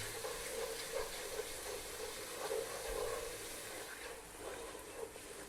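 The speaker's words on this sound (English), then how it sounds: "Stirring all the time." Food being stirred while it cooks in a pan for aromatic Arab rice: a faint, steady sizzle and hiss runs throughout, with soft intermittent scraping from the stirring.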